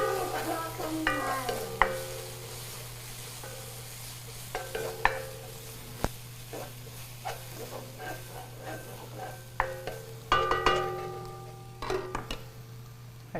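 Onions frying in a pan on the stove, giving a steady low sizzle with repeated scraping and clattering stirs at intervals, close and moderately loud, with no talking.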